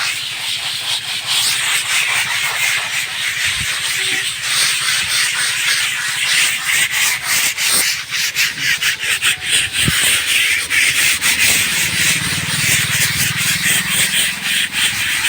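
Several people scrub grime off a high school wall in Kaoraid by hand, a loud continuous rough rubbing with overlapping strokes and occasional knocks, without speech.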